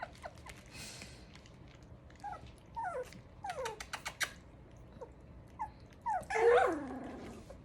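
Puppies trying food for the first time yelp, whine and growl in short bursts as they eat, with several scattered squeaky cries and one louder whimpering outburst near the end over faint background noise.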